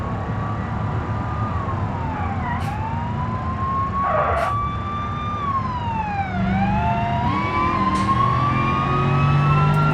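Police car siren in the BeamNG driving game, a wailing tone sweeping up and down repeatedly, loud and close over steady traffic and engine rumble, with a few sharp horn-like bursts.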